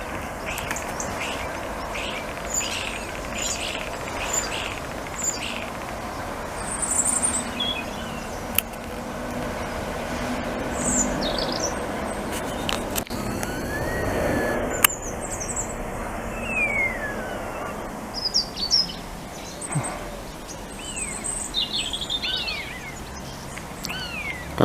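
Starlings mimic a buzzard's mewing call outdoors, giving repeated high, cat-like descending whistles among other chattering birdsong, with a faint background rumble of distant traffic.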